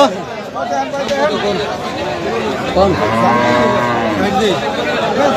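Cattle lowing at a busy open-air livestock market in Bangladesh, with several deep moos rising over a steady hubbub of chatter and crowd noise.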